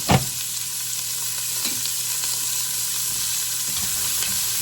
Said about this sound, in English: good chunk of butter. Put those onions in.